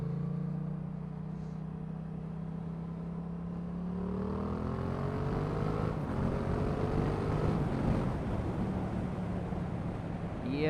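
The aftermarket exhaust on a motorcycle gives a low steady rumble that climbs into a revving note as the bike accelerates, with wind noise, and stays at a moderate distance throughout.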